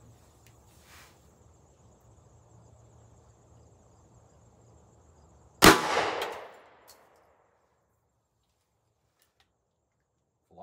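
A Taurus Tracker 6.5 inch revolver fires a Hornady 140 grain XTP .38 Special round into a gel block: one sharp, loud report midway, ringing off briefly, with near silence around it.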